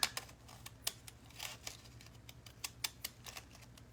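Decorative-edge craft scissors from Provo Craft snip through paper for a junk journal, a series of sharp, quick, irregular cuts close by over a quiet room hum.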